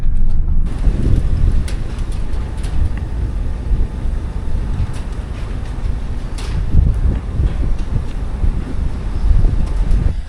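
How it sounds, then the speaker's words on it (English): Steady low rumbling wind buffeting the microphone on a farm during pre-harvest work, with faint intermittent clatter and movement in the background throughout. "It's a little windy, so we got some exciting stuff moving around."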